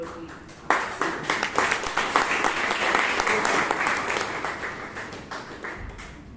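A crowd breaks into applause that swells quickly, holds dense and steady, then gradually thins out toward the end.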